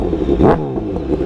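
A BMW S1000 motorcycle with a stainless steel exhaust revs once, sharp and loud at close range, its engine note climbing then settling back to a rumbling idle; no voices.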